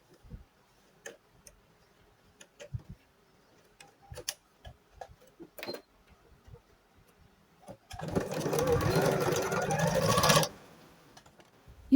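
A sewing machine stitches a doll's dress in one steady burst of about two and a half seconds, preceded and followed by sparse handling clicks and ticks.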